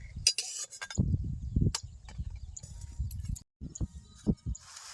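Metal spoon clinks and scrapes against a metal plate as fish curry cooked with pumpkin greens is served, a handful of separate taps with soft spooning sounds between them, close up and with no talk.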